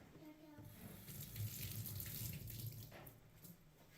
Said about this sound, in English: And then go to the sink and you'll rinse this.